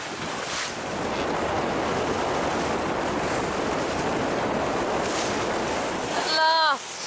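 A sailboat motor-sails through rough seas on the way to the Bahamas, with constant loud wind and water rush; a brief voice and a surge of noise come near the end.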